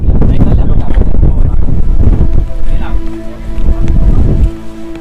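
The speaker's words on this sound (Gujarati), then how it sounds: "જોરદાર પવન ફૂંકાઈ રહ્યો છે" Strong wind buffets the microphone on a hilltop at Girnar near Junagadh, a loud continuous rumbling roar that eases slightly near the end.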